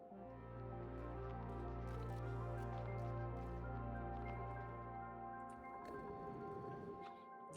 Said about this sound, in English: Our water pool is filling up nicely.